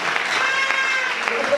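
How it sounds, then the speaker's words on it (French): A church congregation applauds and cheers, dense clapping mixed with raised voices and crowd noise throughout, fairly loud and close. "Est-ce qu'on peut encourager cela par des acclamations?"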